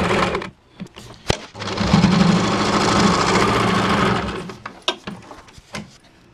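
A domestic sewing machine stitches the neck and shoulder of a designer blouse, running in a close, steady mechanical whir for about two seconds. Scattered clicks and handling knocks come before and after, and no one speaks.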